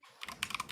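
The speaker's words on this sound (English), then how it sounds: "Jenny, would you mind muting yourself if you're typing?" Computer keyboard typing picked up by someone's open microphone during a video call, a quick run of close, crisp key clicks.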